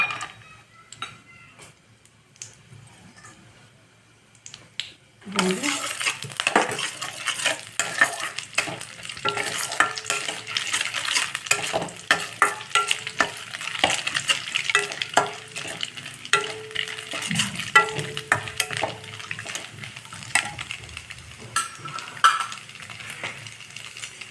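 Almonds and cashews fry in hot ghee in a pan, a steady close crackling sizzle broken by the ticking and scraping of stirring, starting suddenly and continuing throughout.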